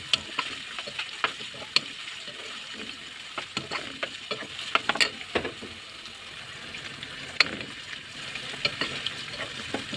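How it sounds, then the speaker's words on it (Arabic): Onion, garlic and chili pepper sizzle softly in a pan as they are stirred, with steady frying hiss broken by scattered scraping and tapping of a utensil, close and fairly quiet. "حطيت نص معلقة الثوم ونص قرن فلفل، شوحهم كده مع بعض"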